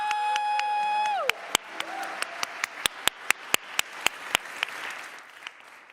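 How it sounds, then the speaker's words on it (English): Gospel concert audience claps as a piano chord fades at the start, then a scattered run of individual loud claps follows, spaced about a third of a second apart and tapering off. "if we could give a round of applause for Ahmed on the keys"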